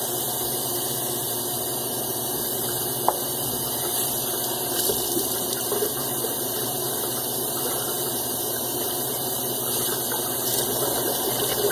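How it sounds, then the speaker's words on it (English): Running water rinses out a shaving lather bowl full of whiskers and leftover soap lather, a steady close wash of flowing, splashing water that continues without a break and with no talking. "Let me rinse this salsa bowl out, all these whiskers and lather."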